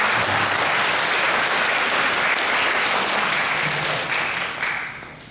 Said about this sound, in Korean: 귀한 말씀 전해주신 목사님께 감사의 박수를 드리겠습니다.